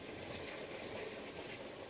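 A Coast Starlight passenger train climbs the Cuesta Grade in the Santa Lucia mountains, its wheels and cars rumbling and clattering steadily, heard from on board as a continuous even roar.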